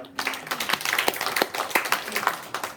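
A church congregation claps for newly named preparation committee members, a lively burst of many hands with distinct sharp claps standing out, fairly close and continuing throughout.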